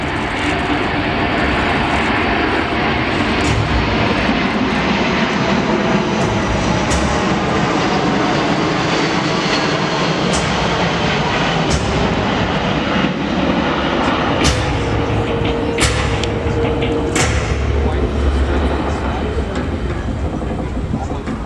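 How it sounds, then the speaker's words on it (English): A Boeing C-17 Globemaster III jet makes a low overflight of the airfield at the 2021 Sun 'n Fun air show, a loud, steady roar of engine noise that stays dense and unbroken for the whole stretch. "The C-17 will now overfly the field to prepare for landing."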